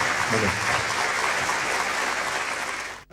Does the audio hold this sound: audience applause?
yes